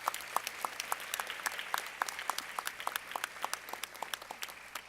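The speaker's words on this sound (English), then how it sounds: "Let's give them a round of applause" Family and friends applaud at a university celebration of achievement, a steady room-filling clatter of many hands with sharp individual claps standing out, moderately distant and continuing throughout.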